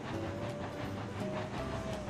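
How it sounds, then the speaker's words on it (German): A steam locomotive in the RAILROADS Online video game rolls slowly through a station area, giving a steady rumbling, hissing run with faint rhythmic wheel clatter and no talk. "Wir pumpen die Lok kurz auf 10 hoch. So. Und fahren gemütlich durch den Bahnhofsbereich."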